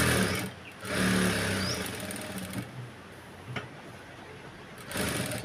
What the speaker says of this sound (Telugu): చూసారు కదా ఎక్కడ కూడా ఉగ్గులు లేకుండా స్టిచ్చింగ్ చేస్తున్నాను.